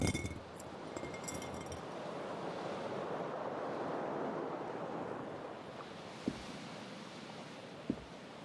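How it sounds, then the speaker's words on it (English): Keys clink in a pocket in the Disco Elysium video game, a few light metallic jingles early on over a steady wash of wind- or surf-like ambience, with a couple of sharp ticks near the end. "Keys are clinking in the pocket of your flare-cut pants."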